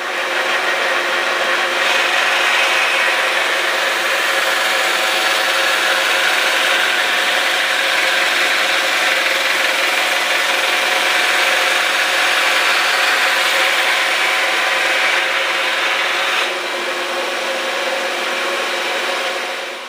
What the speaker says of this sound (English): hopefully grind some kind of a blade profile onto it